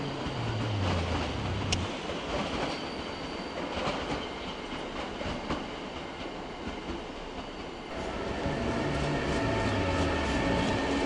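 An Austrian intercity passenger train hauled by a Eurosprinter Taurus electric locomotive rolls through a large station, a steady low rumble of wheels and traction with faint rail clatter and a brief high squeal, holding level throughout without voices.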